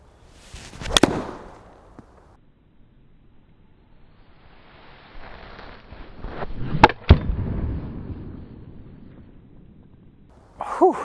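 A golf club strikes a ball using a Hogan-style grip. Two sharp, loud impact cracks stand out, one near the start and another later, against quiet outdoor background noise.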